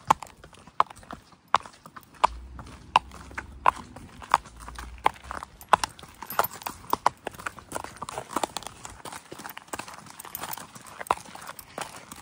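Horses walk through a stable, their hooves clip-clopping in a steady uneven sequence of sharp knocks, close by, with a faint low hum and occasional soft movement in between.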